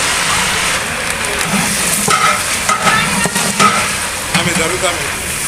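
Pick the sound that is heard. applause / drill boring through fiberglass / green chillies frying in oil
green chillies frying in oil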